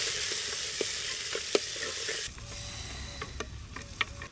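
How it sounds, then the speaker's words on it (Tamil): Turmeric, cumin, fennel, ground garlic and ground pepper sauté in oil for a crab rasam, a bright close sizzle with sharp stirring clicks that drops to a quieter crackle partway through, with no talking. "இதெல்லாம் நம்ம எண்ணெயில் வதக்கிக்கிறோம்"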